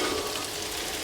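Broccoli frying in ghee in a pan gives a dense, steady, hissing sizzle, close and constant for about a second without a break.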